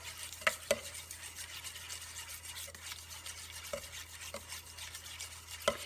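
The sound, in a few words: stirring mayonnaise and red vinegar coleslaw dressing in a bowl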